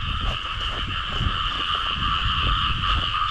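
A dense chorus of frogs croaks continuously and loudly on a rainy night, steady overlapping calls with no voices.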